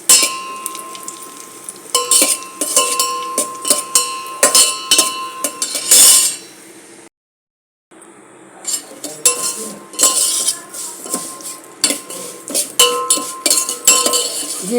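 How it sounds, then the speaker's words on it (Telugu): Metal utensils clink and scrape against a pan as cashews fry in ghee, busy bursts of stirring with a faint steady sizzle under them and a brief silent gap partway through. "నేతిలోను జీడిపప్పు వేయిస్తున్నానండి."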